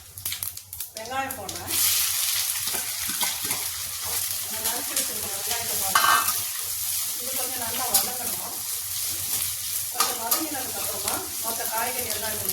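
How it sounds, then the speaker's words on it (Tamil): Chopped onions hit hot oil with cinnamon and cloves in a pan for vegetable biryani, a loud, steady sizzle and crackle with occasional stirring, while a person talks over the frying. "நறுக்கி வச்சிருக்க வெங்காயத்தை போடுறேன்"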